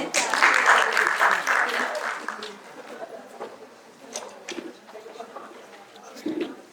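An audience at a pharmacy department talk on gynaecological disorders gives a round of applause as a speaker joins the stage, loud at first and then thinning into scattered claps with some low chatter.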